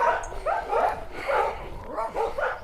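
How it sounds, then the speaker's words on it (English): Dogs bark repeatedly at passers-by near a sculpture graveyard, several loud yapping barks in uneven bursts mixed with whimpers and yips, fairly close. "dogs that bark at you when you walk by"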